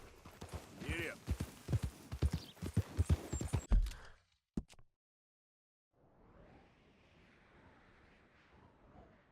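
Horse hooves clip-clopping in the open-world western game Red Dead Redemption 2, a steady rhythmic beat mixed with speech in the first four seconds, then a brief gap and a softer continuous rush of movement.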